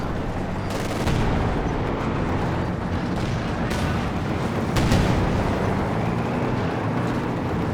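Artillery barrage from an M8 Scott in Company of Heroes 2, with booming blasts and gunfire falling steadily across the battlefield, heavier impacts around one and five seconds over a continuous loud combat din.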